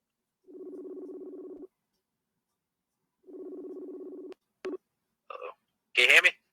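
Two long, even ringback tones on a phone call, separated by a pause, then brief clicks and a burst of voice as the line connects.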